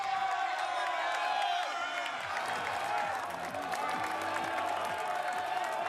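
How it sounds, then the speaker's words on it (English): A dense crowd roars continuously along the course of a men's elite cyclo-cross World Cup race in Gavere, Belgium, a loud sustained wall of cheering and shouting with voices rising and falling throughout. "Listen to the noise of the crowd."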